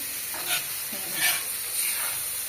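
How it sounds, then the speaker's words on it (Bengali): Onion and garlic fry in a pan with a steady, close sizzle, and stirring scrapes swell it in three gentle waves. "এখানে পেঁয়াজ রসুন কাঁচা দিয়ে এই দেখো ভাজা ভাজা করে নিচ্ছি"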